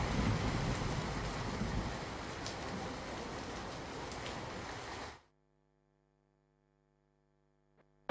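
Heavy monsoon rain in Valsad district, Gujarat, pours down in a dense, steady roar for about five seconds, then cuts off abruptly into near silence.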